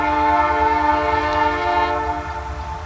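Canadian Pacific Holiday Train sounds its whistle in one long, sustained, multi-tone blast over the low rumble of the rolling train, fairly loud and easing off slightly toward the end.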